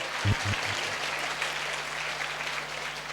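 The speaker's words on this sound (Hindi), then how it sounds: "हाले ताली बजाकर स्तुति करेंगे, चुना हुआ लोग।" A church congregation at a Sunday service claps in praise, a soft, diffuse patter of many hands at a distance, with a low hum and a couple of thumps near the start.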